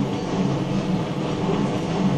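A train passes close by with a loud, steady rumble of rail cars and faint rhythmic wheel clatter, and no voices.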